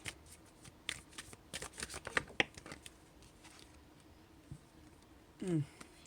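Tarot shadow cards being shuffled: quick papery riffles and soft flicks in short bursts, fairly close and quiet, with a brief voice near the end.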